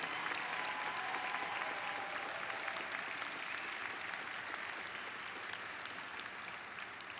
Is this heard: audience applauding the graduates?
yes